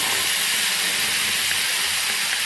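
Chili paste hitting hot oil with crackling mustard seeds, a steady loud hiss of sizzling that fills the whole clip without pause, no voices.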